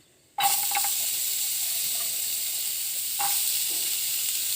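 Carrots and beans hit hot ghee for biryani with a sudden burst of sizzle after a moment of silence, then a continuous close hiss with a couple of stirring clinks.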